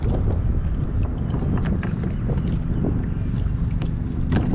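Strong wind buffets the microphone in loud, rumbling gusts while trolling for fish on the water, with water sloshing and scattered knocks underneath.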